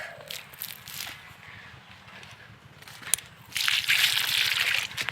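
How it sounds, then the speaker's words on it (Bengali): Water is poured onto plants while watering, a faint trickle that swells at the end into a louder, steady splashing gush close by, with a low hum underneath. "আমার জল দেওয়া হয়ে গেছে"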